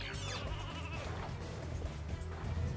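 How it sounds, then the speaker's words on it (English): Sheep bleat several times in the Ratchet and Clank: Going Commando video game, layered over a dense in-game ambience and a steady low rumble, with no talking. "Look at all the little sheep."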